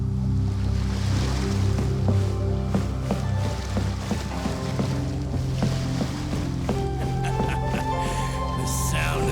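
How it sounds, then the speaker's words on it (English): Calm ocean waves wash steadily in the video game Genshin Impact, a continuous airy surge beneath a bed of soft tonal game music. "The sound of the ocean waves."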